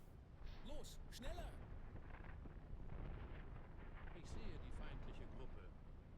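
Gunfire and explosions from the WW2 real-time strategy game Platoon Commander form a dense, continuous battle din with sharp cracks and booming blasts throughout.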